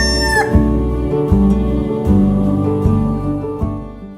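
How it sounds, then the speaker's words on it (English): Backyard chickens cluck and a rooster crows nearby while weeds are brought to them as treats, loud and close, with layered calls over a steady murmur from the flock. "We're taking some of these weeds to the chickens, and boy, do they love their treats."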